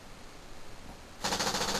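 After a quiet pause, a motion-triggered X7 paintball machine gun in the woods suddenly lets off a fast, loud rattling burst of shots that continues to the end.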